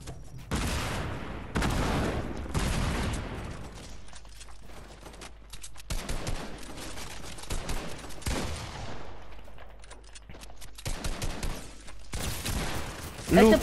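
Rapid bursts of gunfire in a Fortnite tournament match as players spam shots at a roof, loud crackling volleys that start and stop repeatedly, with excited voices talking between and over the shooting.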